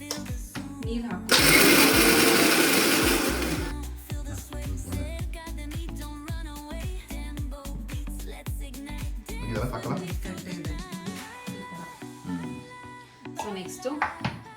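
A kitchen mixer grinder runs loud for a couple of seconds, grinding roasted peanuts with water for egg curry masala, then cuts off as a voice talks over clattering kitchen sounds.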